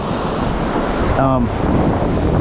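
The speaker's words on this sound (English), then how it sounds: "just take a look at the waves here" Continuous roar of ocean surf on a southwest Florida beach with heavy wind buffeting the microphone, and a brief voice-like tone partway through.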